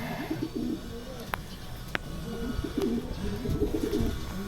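Pigeons coo softly and steadily at a loft as a racing pigeon arrives during a derby, with a few sharp clicks and faint background voices.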